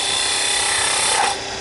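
A spindle gouge cuts into wood spinning on a lathe, a bright continuous hiss and chatter of shaving that holds steady before dropping away near the end, close and alone without talk.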